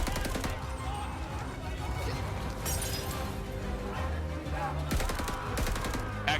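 Rapid gunfire from a gun in the Halo video game, steady bursts of shots and cracks running throughout at moderate level, with people talking over it.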